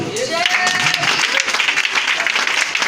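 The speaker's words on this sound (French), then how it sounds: "Si tu es d'accord, acclame-le." A church congregation claps and cheers at a French-language worship service, producing sustained, fairly loud applause with scattered voices calling out over it.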